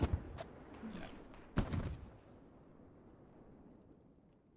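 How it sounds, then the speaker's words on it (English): Mortar rounds land in the military shooter game Squad. A couple of deep, booming impacts come early, each with a rumbling tail that fades into a long low wash. Faint, distant in the mix, with no talk over them. "Here come the mortars."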